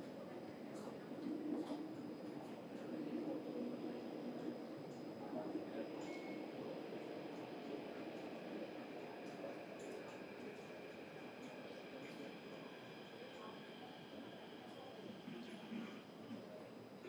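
A Thomson-East Coast Line MRT train hums and rumbles faintly at a Singapore station platform, a steady low drone with a thin electric whine that runs without pause.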